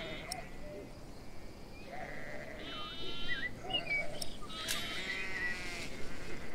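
Sheep bleat several times in short wavering calls at a moderate distance, scattered over a quiet outdoor background, with no voices.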